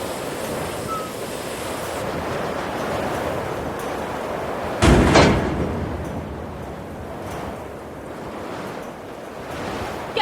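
Strong wind roaring at sea over crashing waves, with a sudden heavy burst of surf midway, continuous and loud with no voices.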